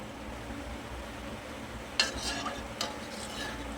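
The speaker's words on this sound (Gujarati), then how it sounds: "दूधને સતત હલાવતા રહીશું જેથી સાઈડમાં મલાઈ જામે નહીં" Quiet kitchen background, then a few scraping strokes of a spoon stirring milk in a metal kadai, two sharper scrapes close by.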